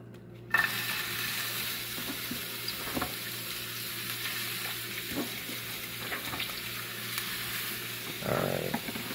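Red onion dropped into a generous amount of hot oil for pork and pineapple rice bowls, giving a sharp start followed by a steady, close sizzle and crackle that continues throughout with a few faint clinks.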